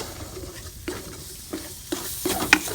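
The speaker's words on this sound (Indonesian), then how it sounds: "Kita tumis bawang putih sama bawang merah." Garlic and shallots sizzle and sauté in hot oil in a home kitchen, a steady frying hiss with several sharp stirring scrapes and pops, close and fairly loud.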